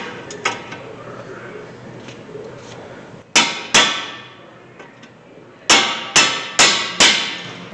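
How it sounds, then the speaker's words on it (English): On a 2006 Chrysler 300, 18 mm brake caliper bolts are broken loose with sharp metallic clanks and taps. Two strikes come, then a pause, then a run of four evenly spaced ringing hits over a faint background hum. "next have to break the caliper bolts loose, which is your 18 millimeter"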